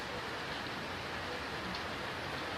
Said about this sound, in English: It's rainy. It's rainy season right now.